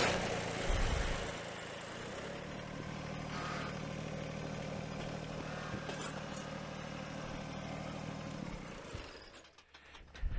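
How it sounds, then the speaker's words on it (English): A farm tractor engine running steadily as it is moved, a continuous mid-pitched mechanical drone close by that fades near the end, with no talk. "I gotta move the tractor."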